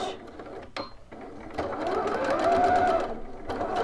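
A home sewing machine stitches a sleeve seam, its close motor whir starting after a brief pause and running steadily with a rising hum before stopping near the end.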